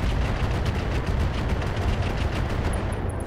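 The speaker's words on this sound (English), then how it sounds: "I'm just going to fire the SRM and the Bolt-On" SRM missiles and a Bolt-On rocket fired together in the mech game RogueTech, a dense, loud roar of rapid launches and blasts that runs without a break.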